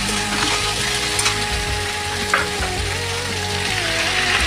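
Continuous loud sizzling of okra and shrimp frying in a pan, with a steady crackling hiss and faint scraping of stirring throughout, close up with no talking.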